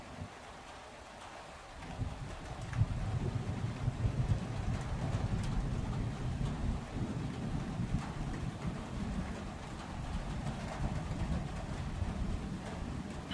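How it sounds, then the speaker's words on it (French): Heavy June thunderstorm with a torrential downpour, rain roaring loudly and steadily after a quieter opening, with deep rumbling thunder and wind mixed into the dense wash of sound. "Premiers orages vraiment costauds du mois de juin, pour le dernier jour."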